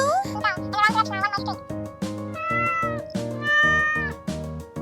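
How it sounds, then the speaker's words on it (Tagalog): A cartoon kitten stuck in thorny plants meows repeatedly in high, pleading cries over a bouncy rhythmic music bed. "nakita ang isang munting kuting na naipit sa matinik na mga halaman"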